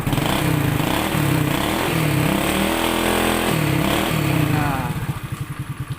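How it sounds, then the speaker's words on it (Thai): A Honda Dream 100 motorcycle, whose kick-start works though its electric start fails, runs close by. Its engine chugs loudly at first, then settles into a slow, even idle with distinct putting pulses. "เดี๋ยวดับ แล้วก็สตาร์ทเท้าให้ดูนะครับ"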